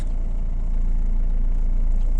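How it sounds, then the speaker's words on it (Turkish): A learner driver's car engine on a slope, low and steady as it idles or strains, loud and close throughout. "Bakın gaz veriyor. Araba biraz bağırıyor."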